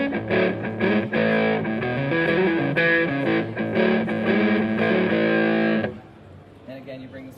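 Electric guitar played through a Pigtronix Aria analog distortion pedal with the gain near noon, loud crunchy chords and riffs ringing for about six seconds before cutting to quiet.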